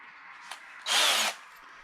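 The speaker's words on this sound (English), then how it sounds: "let's switch drill bits and make this hole bigger" Power drill boring a hole through an ostrich eggshell: a single loud, steady whine of about half a second stands out sharply above quiet room noise, preceded by a faint brief tap.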